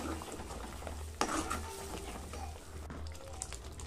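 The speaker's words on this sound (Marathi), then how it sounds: "आपल्याला आपल्या वाटणासोबतच छान परतून घ्यायचे" Masala paste for chicken being sautéed and stirred in a pan, a steady low sizzle with scraping spatula strokes and a couple of louder clatters against the pan, no talking.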